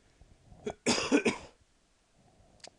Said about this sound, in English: Hold up, I'm gonna cough.